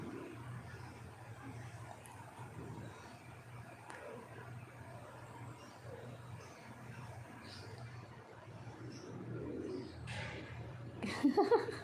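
A pet bird coos softly indoors in a steady, low, continuous murmur, with a brief louder burst of sound right at the end.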